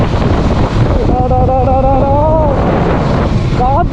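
Strong, cool wind buffets the microphone without pause on a coastal road beside the Arabian Sea at Udupi, with a faint engine drone beneath it.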